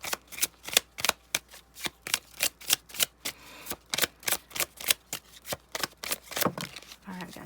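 Tarot cards are shuffled and pulled by hand, making a brisk, rhythmic series of sharp riffling snaps up close that ends in a rougher shuffle.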